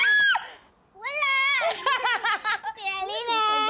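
A pet cat meows in a run of high, wavering, child-like cries, loud and close, with a short opening call, a brief pause, then a longer string of drawn-out meows.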